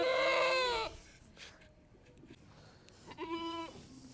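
Goats on a goat farm bleat twice: a loud, drawn-out bleat up close, a quieter pause, then a second shorter bleat, with no talking.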